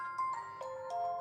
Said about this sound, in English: Now listen, Nokia ringtones.